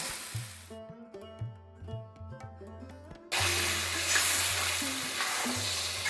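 Hot water is poured into a pan of sizzling banana flower, rice and spices. After a tonal musical passage, a sudden loud hiss bursts out and continues as a dense, sustained sizzle to the end.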